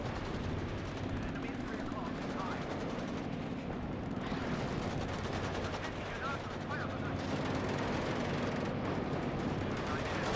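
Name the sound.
machine gun fire in WARNO video game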